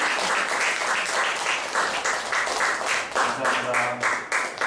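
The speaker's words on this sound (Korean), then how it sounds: "큰 박수로 모시겠습니다" An audience at a book launch talk on natural childbirth warmly applauds to welcome an obstetrics clinic director to the stage, with loud, close clapping that swells and dips, while voices and a faint tonal sound mix in.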